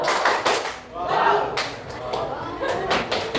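Schoolchildren in a classroom clap out a rhythmic cheer, with bursts of hand claps broken by short gaps and children's voices chanting along between them.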